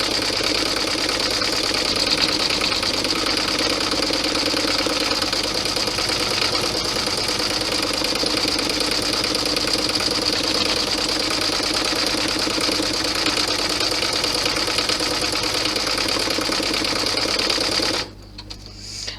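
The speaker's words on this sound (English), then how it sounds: "now it will stitch out the placement for the belt" An embroidery machine stitching out a belt placement, a loud fast steady mechanical whir and rapid needle tapping running unbroken for most of the stretch before stopping abruptly near the end.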